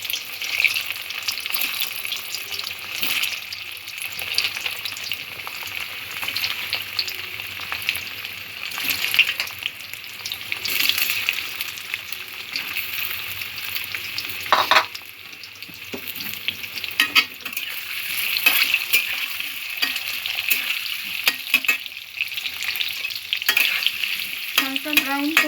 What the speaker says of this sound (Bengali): আলুগুলো হালকা করে ভেজে নেব প্রথমে।